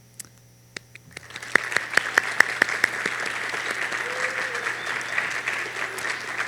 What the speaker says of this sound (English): give a round of applause to the family and friends who have been behind our grads every step of the way